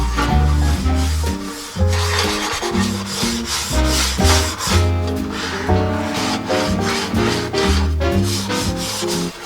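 Scrubbing in a home kitchen produces loud, rhythmic rubbing strokes with repeated back-and-forth passes and short pauses, heard up close with no talking.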